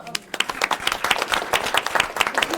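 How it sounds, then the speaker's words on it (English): An audience at a school committee meeting claps for a group of students, a brisk burst of many hands fairly close, with a voice briefly over the start. "these guys deserve a round of applause"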